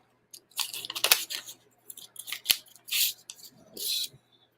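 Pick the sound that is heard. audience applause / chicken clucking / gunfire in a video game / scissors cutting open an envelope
scissors cutting open an envelope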